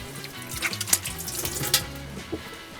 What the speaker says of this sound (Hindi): हाथ धो लेते हैं ताकि डिज़र्ट का टेस्ट ना आए।